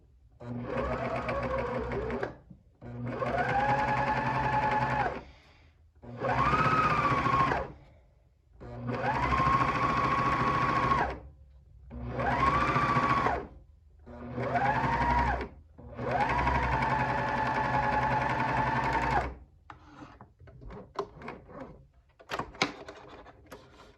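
A sewing machine stitches binding around a keyhole opening on a child's back bodice, running in six distinct bursts of rapid whirring separated by short pauses, followed by soft handling rustles.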